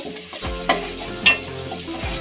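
Onions frying lightly in oil with curry leaves for a homemade fish curry, a steady soft sizzle with a couple of brief stirring scrapes, close and alone with no talk.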